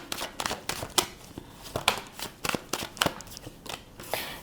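Tarot cards are shuffled and pulled from a deck in a quick series of crisp papery flicks and riffles, close and fairly quiet, with no talking.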